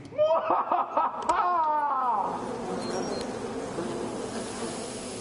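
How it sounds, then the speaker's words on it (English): A dense, steady insect-like buzz of bees in a video game fills the clip, beginning with brief chirpy tonal sweeps and then settling into a continuous droning hum. "I spy with my little eye something that is bees!"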